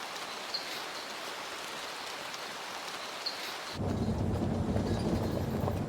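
Cold night rain pours steadily in a Trinidad jungle, joined by a sudden louder rumble of thunder partway through that deepens the wash of sound.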